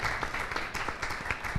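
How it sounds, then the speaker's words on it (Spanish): A seated audience at a parents' academy anniversary event gives brief applause for a speaker. The clapping is short and moderately faint, with uneven claps and a light room echo. "Fuerte el aplauso para Ángela Rivera."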